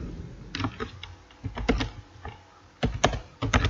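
Keys on a computer keyboard are struck to enter code into a Python shell, clear close clicks in short bursts with brief pauses between groups.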